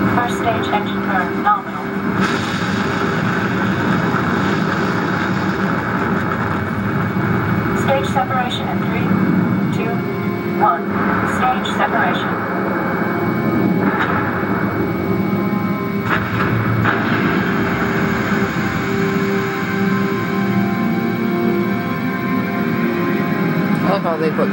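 Launch cutscene in Halo Reach: a deep, steady rocket engine rumble sustained throughout, with a commentator's voice speaking over it.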